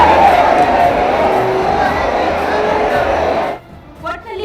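A crowd of devotees lining the streets during a temple chariot festival at the Khaskateshwara Math fair in Talikoti, a loud continuous roar of cheering and shouting voices that cuts off abruptly, leaving brief quieter murmurs.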